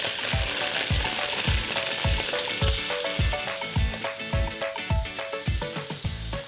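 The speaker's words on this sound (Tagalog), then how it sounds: "Lagyan lang natin ng oil, saka natin isasangkot siya or isi-sear." Duck meat sears in hot oil in a pan with a steady sizzling hiss, partly masked by loud background music with a regular thumping beat.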